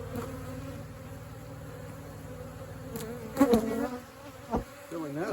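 Honeybees buzzing steadily around a garden hive as they bring in nectar, a dense close hum with individual bees passing nearer near the end.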